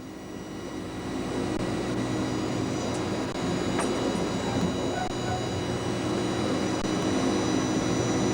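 A train passing on an Italian railway line near Torviscosa station, a steady loud rumble and rolling wheel noise heard from aboard another train, sustained throughout with faint high squeals.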